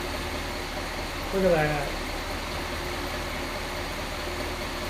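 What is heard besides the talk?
1966 Ford Galaxie 500 engine idling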